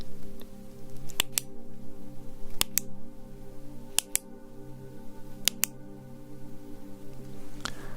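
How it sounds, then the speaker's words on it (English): A series of sharp, isolated clicks made for a hearing-count test, spaced unevenly in small pairs and singles over a quiet, steady background hum, close and distinct. "I am now going to make a number of clicking sounds like this."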